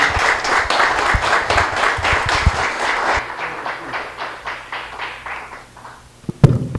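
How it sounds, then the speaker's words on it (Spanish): A conference audience at an academic panel applauds to welcome the speakers, dense clapping at first that thins into fewer, rhythmic claps before fading, followed by a couple of sharp knocks near the end. "Recibamos con un fuerte aplauso a los ponentes"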